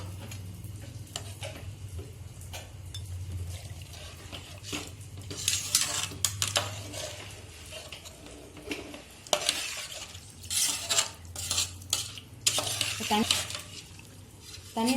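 A spoon scraping and clinking around a pot of mutton biryani in uneven strokes, with a soft bubbling sizzle underneath, close by.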